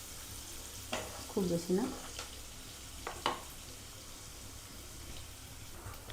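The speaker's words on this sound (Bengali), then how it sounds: "পেঁয়াজটা হালকা ফ্রাই হবে," Onions fry lightly in a pan with a soft, quiet sizzle, broken by a few clinks and scrapes of stirring, while a person speaks briefly.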